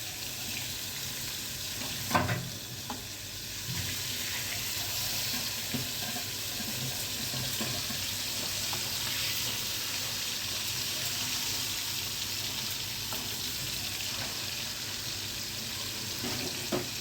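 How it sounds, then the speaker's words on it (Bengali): Fish fry in a pan with a steady, dense sizzle that runs unbroken and close, with a couple of brief clatters near the start and no talking. "মাছগুলো ভালোভাবে ভাজা হয়ে যাচ্ছে"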